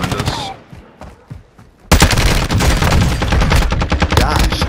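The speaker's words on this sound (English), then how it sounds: "Someone else is shooting at them, be careful." Rapid bursts of gunfire crack in Call of Duty Warzone Resurgence, with a few scattered shots and a quieter lull first, then a loud sustained barrage of rapid automatic fire crackling close by.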